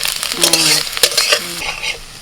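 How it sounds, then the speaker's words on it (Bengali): Finely chopped ginger and garlic sizzle in a little very hot oil in a wok, with a spatula scraping and stirring in short strokes over the loud, close frying hiss. "সামান্য একটুখানি তেলে রেখেছি ওর মধ্যে দিয়ে দিচ্ছি আদা রসুন কুচি"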